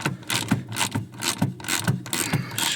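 A bolt turned like a tap into worn threads on a car part gives off a rhythmic metallic ratcheting and grinding, repeating about every half second up close with no voices.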